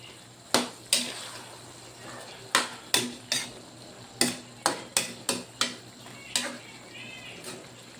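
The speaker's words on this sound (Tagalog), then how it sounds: "So dapat haluin natin, halu-haluin para ang paglambot ng talong ay pareho." A utensil stirs sautéed eggplant in a pan, giving a series of sharp scraping clacks at an irregular rhythm with soft sizzling beneath, close and moderately loud.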